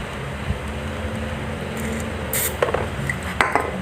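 WD-40 cleaner sprayed into the on/off switch of a dead RC Suzuki box toy car gives a short hissing burst midway, followed by a few small clicks and taps close by.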